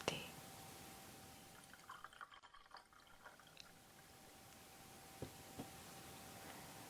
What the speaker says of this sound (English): I'll go ahead and pour you a nice cup of tea.